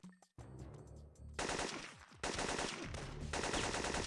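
Enemies in a retro first-person shooter video game open fire, a dense rapid burst of automatic gunfire that starts abruptly and continues loud and sustained with several surges, no talk.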